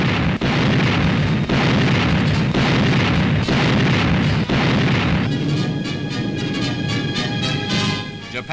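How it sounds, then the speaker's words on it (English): Anti-aircraft guns fire in heavy, booming rounds at a steady rhythm, each blast loud and close, in archival war footage, giving way to a rattling, distorted roar at the end. "Here already, Ack gunners are in action."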